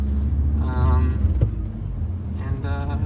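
A 180HP VW Scirocco car is driving at night, its steady low road rumble and engine drone filling the cabin. A voice is heard faintly over the hum in brief moments.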